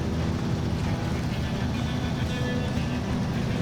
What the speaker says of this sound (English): Wow, this truck is doing really good through this mud.